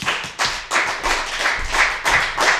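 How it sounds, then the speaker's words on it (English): A small comedy club audience claps to welcome the next comedian to the stage. The individual hand claps sound close and uneven, coming in loose bursts with brief gaps. "Give a round of applause for Colin Nelson."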